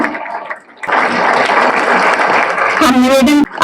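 At the closing ceremony of the 69th National Games, a burst of crowd applause swells after a short pause and carries on steadily, then gives way to a brief watery gurgle near the end.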